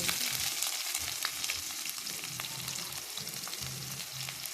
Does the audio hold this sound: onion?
yes